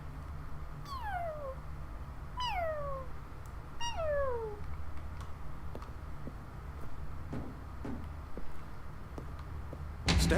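A human voice mimicking a cat's meow, three drawn-out falling mews spaced evenly over a low background hum, followed by a brief louder clatter at the end.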